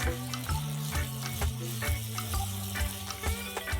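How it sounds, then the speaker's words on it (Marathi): Thinly sliced onions frying in oil for navratan pulao: a steady close sizzle with rhythmic stirring scrapes in the pan, no voices. "आता मी घालणार आहे 2 कांदे। हे उभे चिरलेले आहेत, असे पातळ पातळ। हे आपल्याला ब्राउन करून घ्यायचे आहेत।"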